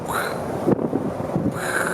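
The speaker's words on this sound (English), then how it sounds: "It's windy, look at this." Gusty wind buffets the microphone in a steady broadband rush, with a brief voice-like murmur partway through.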